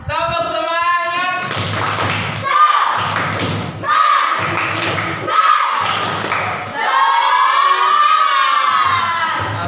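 A classroom group performs a rhythmic spirit clap, with loud unison claps and thumps alternating with chanting voices in a steady patterned sequence.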